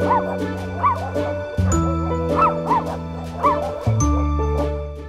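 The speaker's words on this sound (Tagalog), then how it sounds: "Kasama ang aso kong si Cusco, kukumustahin namin ang lagay ng mga rescued na aso at pusa" Rescued dogs at an animal sanctuary in Cavite bark and yip in several bursts, with whimpers and a faint tinkle of tags, loud and close, while a sustained tonal hum runs underneath.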